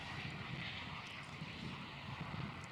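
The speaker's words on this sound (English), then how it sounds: "we do also have the Capital A330 taxiing out for departure" Capital Airlines Airbus A330 taxiing out for departure at Melbourne Airport, a steady broad jet engine roar with a low rumble holding constant at moderate distance, no voices.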